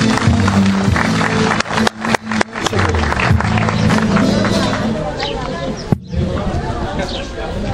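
Loud, dense applause from a crowd at the opening of a Kışla community association in Avanos, greeting association president Ali Poyraz, with chatter and a steady tonal hum running beneath before it thins out toward the end.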